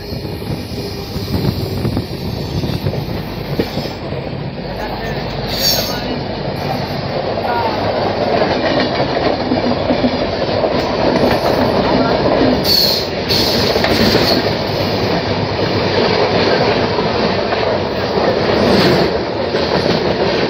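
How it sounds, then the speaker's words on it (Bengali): Visakha Express, the 17016 Secunderabad–Bhubaneswar train, roars past on the adjacent track, heard from inside a moving Chennai Mail sleeper coach: loud continuous rumble and clatter of wheels with occasional squeals, sustained throughout. "সামনে থেকে আসছে 17016 বিশাখা এক্সপ্রেস"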